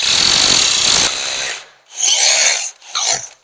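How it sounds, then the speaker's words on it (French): A power drill bores a first hole through a rail being fixed to a plasterboard wall beside a patio door, a loud whirring grind lasting about a second, then fading into quieter bursts of rubbing and scraping. "Et je viens percer mon premier trou."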